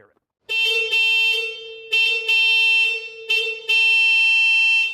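Soft-tone horn of a Citroën DS, part of its two-tone Town and Country horn setup, sounding in several loud, close honks of varied length with short gaps between them.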